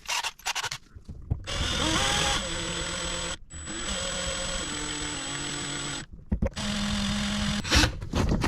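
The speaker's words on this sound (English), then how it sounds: "if you want to open this thing up, you need to drill out the rivets and pull it off" A handheld drill with a 3/16 inch bit bores out the rivets on a Ford remote-mount starter solenoid, running in several sustained close bursts with brief pauses and a shift in pitch as the bit bites through the metal.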